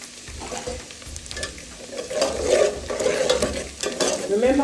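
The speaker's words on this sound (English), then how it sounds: "You let the onion fry. You fry the onion for a while." Chopped onion frying hard in a pan over high heat for Nigerian jollof rice, a steady close sizzle with scraping stirs building louder through the second half, no talk.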